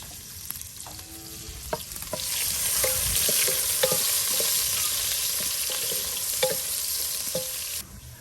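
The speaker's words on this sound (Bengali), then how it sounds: "পেঁয়াজগুলা তেলের মধ্যে ভাজা ভাজা এক মতন ভাজা ভাজা হয়ে গেছে।" Onions frying in oil in a home village kitchen while being stirred: a steady bright sizzle with intermittent scrapes and taps of the spatula against the pan, close and without speech.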